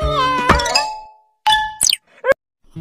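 Cartoon kitten with sore, inflamed eyes mewing in short high cries, mixed with bright clanging chime sounds from a children's animal-rescue cartoon.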